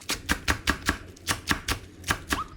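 A knife slices half a medium onion into thin strips on a cutting board in a steady rhythm of about a dozen close, crisp chops with a brief pause midway.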